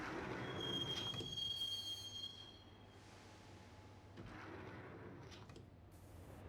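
Train ride in the video game Max Payne: a subway train rumbles along with a high, thin wheel squeal over the first seconds, then a steady low rolling drone with faint clicks, alone and without talk.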